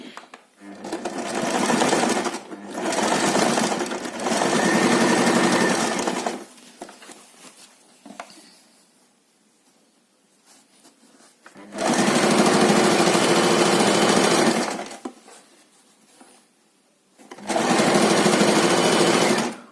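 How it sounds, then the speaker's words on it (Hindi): A sewing machine stitches fabric for a small multipurpose bag in loud, close bursts of rapid mechanical whirring, several runs of a few seconds each separated by quiet pauses with faint handling sounds. "थोड़ा सा मार्जिन छोड़ के स्टिचिंग शुरू करेंगे।"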